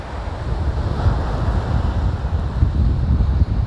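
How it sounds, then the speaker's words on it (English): Strong wind roars steadily across the microphone on the Pacifica coast in the San Francisco Bay Area, a continuous loud buffeting rumble with a hint of surf beneath, no voices. "you can really feel the strong wind"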